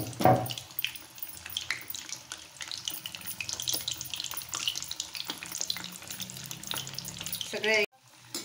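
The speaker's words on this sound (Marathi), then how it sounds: "सगळे आपल्याला अगदी बारीक गॅसवरच तळायच्यात" Shankarpali, a crisp Diwali sweet, frying in hot oil on a low flame: a close, continuous soft sizzle and bubbling with occasional stirring clinks, ending in a brief sharp clatter.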